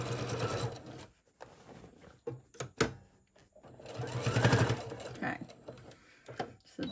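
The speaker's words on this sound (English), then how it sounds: "I'm just going to sew it down and not worry." Sewing machine stitching a seam on a Christmas tote bag, running in close bursts of rapid mechanical chatter with brief pauses and clicks between them.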